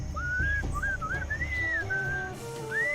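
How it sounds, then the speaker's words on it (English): Melodic whistling from the Sam & Max Beyond Time and Space video game: a bright, wavering tune with gliding notes, steady and clear over a low backing murmur. "What is that enchanting whistling sound?"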